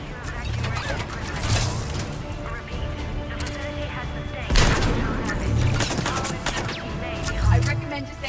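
Dense automatic turret gunfire and explosions in the sci-fi shooter Mass Effect 3, a continuous loud volley of rapid shots with heavier booms around the middle and near the end, mixed with battle chatter in the background.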